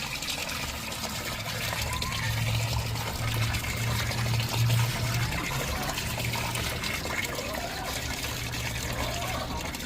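Water pours steadily into a combined snail and fish tank, a continuous splashing trickle with a deeper gurgling swell partway through.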